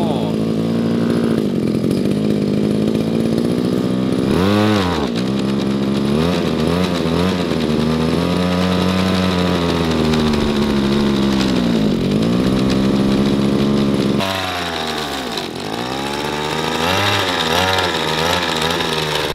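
A brush cutter's small two-stroke engine runs loudly close by, its pitch rising and falling as the throttle is revved and eased, with one deeper dip late on; the engine lacks power.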